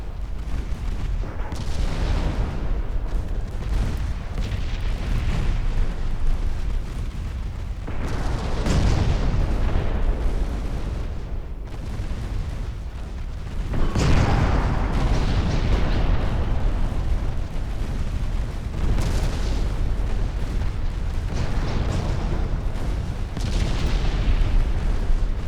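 Naval secondary battery guns fire repeatedly in a video-game sea battle, heavy booming blasts recurring every few seconds over a continuous loud rumble, with no voices.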